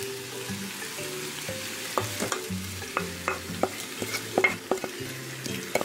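Okonomiyaki frying on a griddle, a steady close sizzle under repeated scraping and tapping of a spatula against the hot metal, with clatter growing busier toward the end.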